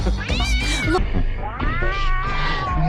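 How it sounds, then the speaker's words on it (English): A cat yowls twice in long, rising-and-falling drawn-out meows, loud and close, the second cry stretching over a second and a half. "Did somebody get that cat off my head?"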